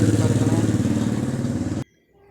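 A motor vehicle, apparently a motorcycle, passes close by on a road with a loud, pulsing engine throb that stays steady before cutting off abruptly, leaving near silence.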